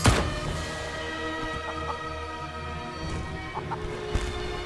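A video-game chicken clucks in short, soft bursts at moderate distance over a constant background hum, with no talking.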